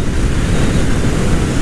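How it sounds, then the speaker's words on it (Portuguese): Strong wind roars steadily against a Honda Titan motorcycle riding fast on a highway, a loud, continuous buffeting rush with no break and no talk. "O vento tá contra."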